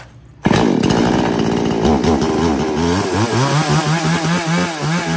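A JAPAN-branded chainsaw for cutting tree stumps and large timber starts up abruptly and runs loud and close, its engine buzzing steadily with rising and falling revs throughout.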